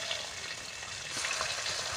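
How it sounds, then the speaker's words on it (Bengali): Sea fish frying in oil in a pan, giving a dense, steady, hissing sizzle throughout that swells slightly midway, heard up close with no talking. "মাছটা খুব ফাটছে। তো যাই হোক, মাছগুলো ভাজা হোক।"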